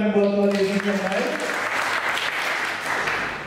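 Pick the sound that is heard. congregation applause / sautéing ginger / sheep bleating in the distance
congregation applause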